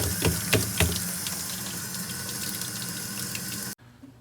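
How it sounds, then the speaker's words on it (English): Plastic concrete-tile forms being rinsed under running water, a steady loud gush with clattering knocks early on, cutting off abruptly near the end. "It just loosens everything right up and rinse them out. You want to make sure you rinse them well before you reuse these."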